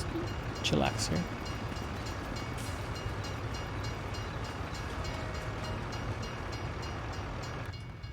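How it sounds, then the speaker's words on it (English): A train rolls past in a continuous loud rumble close by, with brief horn-like tones near the start and a steady wash of wheel noise throughout. "So there's a train coming."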